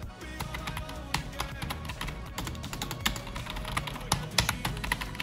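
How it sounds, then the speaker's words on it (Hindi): Typing on a new gaming keyboard, with rapid, close, crisp key clicks tapping in an irregular stream throughout. "इसकी की का फील टाइपिंग का फील कैसा देखिए आप सुनिएगा"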